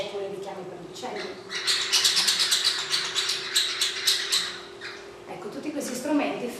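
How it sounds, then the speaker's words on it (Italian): Bird call whistles played as sound-making instruments give a run of rapid chirping, squawking tweets, fairly close and sustained, with a quieter stretch before and after. "oppure i richiami per gli uccelli."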